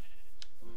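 A single short sheep bleat from the Minecraft video game, loud and close over a steady game backdrop.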